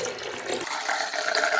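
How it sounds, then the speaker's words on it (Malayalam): Water poured into a spice mixture with yogurt, starting as a brief splash that turns into a bright running pour for about a second, close by. "ഇനി വെള്ളം ഒഴിക്കാം."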